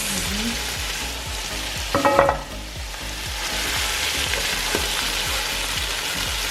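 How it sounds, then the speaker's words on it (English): Herb greens (sabzi) frying with onions, beef and turmeric in a pan, producing a loud continuous sizzle close by, with a brief clatter of stirring in the middle and no talking. "Now we're gonna add in the sabzi, or the greens, to the mix."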